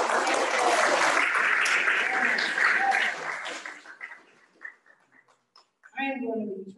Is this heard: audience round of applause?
yes